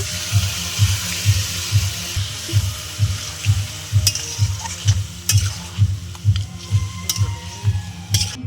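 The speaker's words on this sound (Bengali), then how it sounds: "তা আমি এবার চিকেনটা দিয়ে দিচ্ছি" Chicken pieces sizzle loudly in a pan while a spoon stirs them in a steady rhythmic scraping, repeating roughly every half second, close and continuous, with occasional sharper clatters of the utensil.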